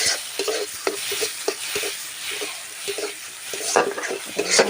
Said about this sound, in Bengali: এবার আমি একটু ভালো করে একটু নেড়ে নেব,